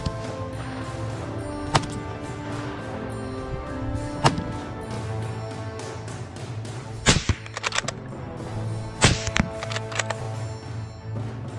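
Gunshots ring out during a boar hunt in harvested fields, with several sharp cracks spread over a steady outdoor background, including a close pair of shots near the middle and another pair toward the end.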